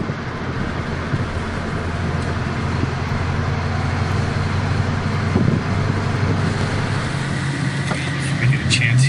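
Ford Mustang GT with 30 lb fuel injectors cruising on the road: a steady, close low engine drone and road rumble runs throughout at an even level, with a brief swell near the middle.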